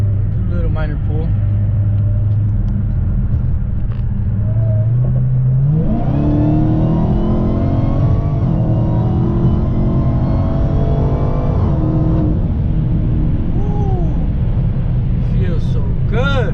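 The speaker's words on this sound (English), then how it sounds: "if you want a cooler intake that whines, look into Legmaker" A Dodge Hellcat with a Legmaker intake pulls hard, its supercharger whine climbing in pitch over a heavy engine rumble, then dropping away; a voice speaks briefly over the idle at the start.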